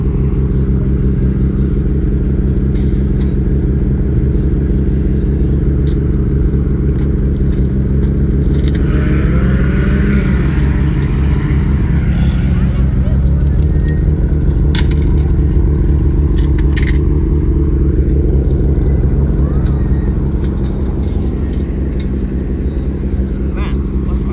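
A Rocket Bunny Nissan R32 Skyline idles and creeps off a trailer, its engine a steady loud rumble throughout with occasional scrapes and clunks, while people call out directions nearby.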